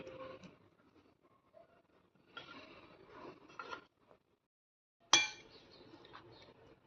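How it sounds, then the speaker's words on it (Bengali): Alu kabli chaat ingredients, boiled potato, roasted peanuts and date-tamarind chutney, tossed together in a bowl: soft intermittent clinks and scrapes of a utensil against the bowl, with one sharper knock partway through, close and quiet with no talk. "সব কিছু আমি ভালো করে মিশিয়ে নিলাম।"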